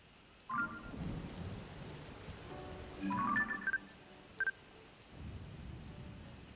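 Low rumbling thunder rolls beneath steady rain in the video game The Legend of Zelda: Tears of the Kingdom, with a few brief electronic blips over it; no talking.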